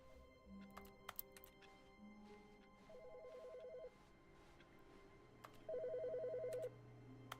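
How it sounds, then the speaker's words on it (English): An old-style telephone rings in The Stanley Parable, two bursts of rapid trilling electronic ring, fairly faint over a low background hum with a few soft clicks. "Oh, phone's ringing, what?"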